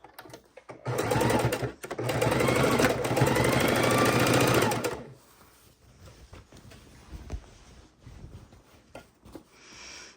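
A sewing machine runs steadily for about four seconds, stitching binding onto a king size Christmas quilt, then stops. Softer handling noises and rustling of the fabric follow.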